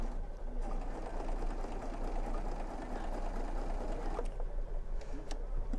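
Baby Lock serger sewing a rolled hem with one needle removed, a steady continuous machine whir running at an even pace for the whole stretch, close and fairly loud.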